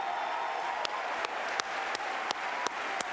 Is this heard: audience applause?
yes